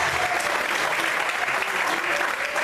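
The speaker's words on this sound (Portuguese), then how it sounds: "Aplaude o Senhor essa noite" Church congregation applauding during an evening worship service, a dense, steady wash of clapping that fills the whole stretch, with voices mixed faintly into the crowd.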